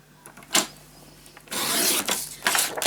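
Paper is scored along a scoring board for a handmade moth storage tower: a short scrape, then a longer run of close, dry rasping strokes ending in a final pass.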